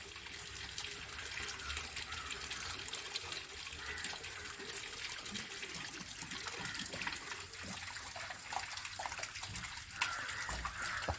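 Water gushes and flows steadily inside a washing machine during its cycle, a quiet, continuous rushing with no pauses.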